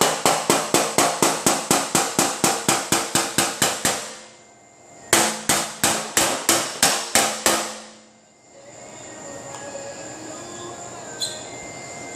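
A hammer strikes a 2010 Honda Civic sedan fender backed by a dolly in rapid, evenly spaced ringing metallic blows, two loud bursts separated by a short pause, then fading into quiet shop ambience.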